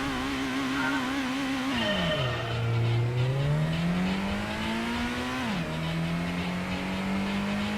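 An old Nissan GT-R engine in the Gran Turismo racing game howls steadily, dropping in pitch at a gear change near two seconds, climbing again, then shifting once more, loud and continuous with no talk.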